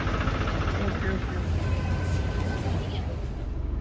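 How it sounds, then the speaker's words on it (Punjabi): A steady, low tractor engine rumble runs throughout, close and continuous, with voices talking over it. "ਭਤੀਜ ਟਰੈਕਟਰ ਤੇ ਗੇੜਾ ਲਾ ਰਹੇ ਨੇ"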